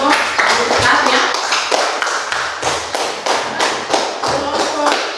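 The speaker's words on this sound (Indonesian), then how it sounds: "Jadi kita berikan aplaus kepada kelompok 1 ya." A classroom group gives a burst of loud, close clapping in a rapid uneven rhythm, with occasional thumps, lasting several seconds.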